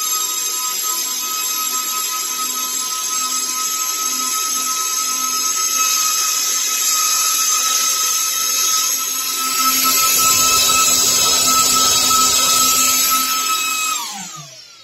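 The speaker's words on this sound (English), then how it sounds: "These are some of the most powerful fans ever to grace my office." Fans of an AsRock Rack 4U12G server roar loudly and steadily up close, a dense whine with sharp tonal pitches, swelling slightly midway before spinning down and cutting off near the end.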